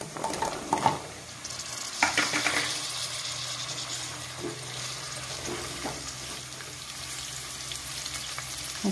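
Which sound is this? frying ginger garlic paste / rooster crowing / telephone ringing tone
frying ginger garlic paste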